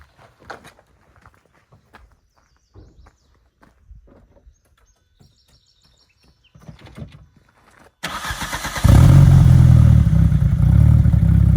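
Quiet footsteps and small clatter, then a VW Mk3 Cabrio's ABA 2.0 engine with a big cam cranks and fires, settling into a loud, steady, lumpy idle close by; no talk.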